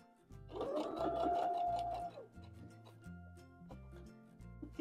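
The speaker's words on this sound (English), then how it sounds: "Bring the points together at the bottom. And sew all the way down." A sewing machine stitches a quilt block seam for a tulip flower block, a steady humming whir for about two seconds, then quieter intermittent mechanical clicks and handling sounds; fairly soft and close.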